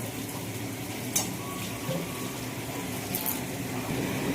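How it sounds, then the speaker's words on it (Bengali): Chicken gizzard meat frying in a pan with a soft, continuous sizzle, plus a few light clinks and scrapes of stirring. "এবার মাংসগুলো ঢেলে দেব।"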